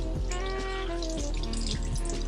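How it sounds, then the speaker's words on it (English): Hot water from a tap runs into a sink while a saxophone mouthpiece is rinsed, a close continuous splashing and trickling stream with bright dripping bursts. "we're gonna run some hot water in, and then allow it to get warm for a little bit"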